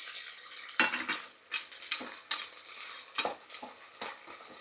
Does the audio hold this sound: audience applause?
no